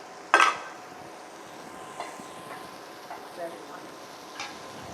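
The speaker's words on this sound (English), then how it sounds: "It will start sizzling almost immediately." Halloumi slices in a frying pan: a sharp clatter as they go in, then a faint, quiet sizzle with a few soft ticks of utensils.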